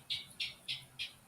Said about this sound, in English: that bird sounds really close,